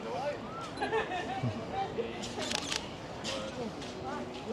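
A camera shutter clicks a few times while taking a photo of other people at a busy tourist spot, the short sharp clicks set against steady crowd chatter and nearby voices.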